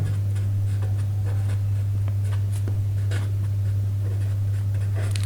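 Chalk or marker strokes on a board during a physics lecture on electric fields, a run of short scratchy taps and strokes over a steady low hum, with no talking.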